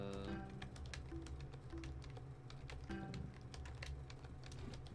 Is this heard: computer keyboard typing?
yes